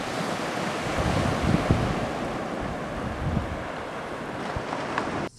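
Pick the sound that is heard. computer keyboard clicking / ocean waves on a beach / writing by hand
ocean waves on a beach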